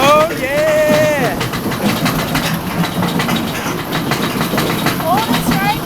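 Mine train amusement ride at Ocean Park rumbling and clattering along its track, a steady mechanical roar with riders' voices and excited shouts mixed in throughout.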